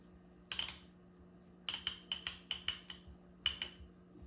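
Quiet sharp clicks from a Honda transmission lock and shift solenoid under test, one alone and then a quick run of about eight evenly spaced ticks, over a faint steady hum.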